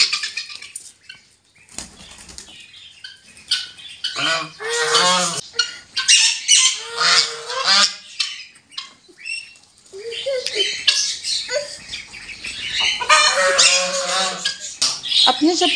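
Pet ducks let out of their pen squawk and quack in a busy, close flurry with flapping wings and pattering feet, calls coming in bursts throughout.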